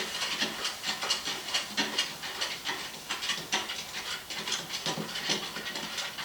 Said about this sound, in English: you want to add another pat of butter to that